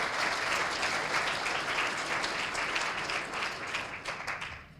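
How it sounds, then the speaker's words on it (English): A school audience at a 2019 civic day event in Hamilton gives a sustained round of applause, dense steady clapping throughout that fades slightly toward the end. "round of applause for Sunny."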